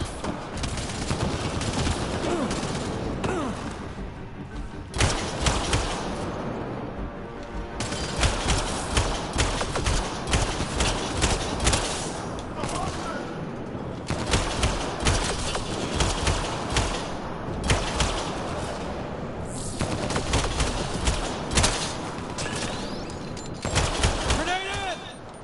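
Sustained gunfire in a Mass Effect Andromeda battle, rapid bursts and repeated volleys from close and mid range, rising and falling across the fight while characters shout and talk over it.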